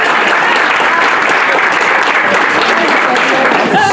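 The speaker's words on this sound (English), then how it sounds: "Can I get a big round of applause?" Audience at a TVET podcast launch, Elangeni, breaks into loud, dense, continuous applause, close and filling the room without pause.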